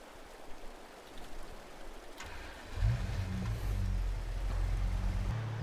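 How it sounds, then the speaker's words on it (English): Steady broadband rush of a flowing stream in a Farming Simulator 22 map, continuous and moderately loud, with a low rumbling engine-like hum rising partway through and sustaining beneath the water wash. "Just was curious once I turned my motor off if there was water sound. There absolutely is."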